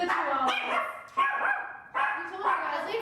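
Small chihuahuas yap in short clustered barks, three or four bursts close by, mixed with people talking indoors.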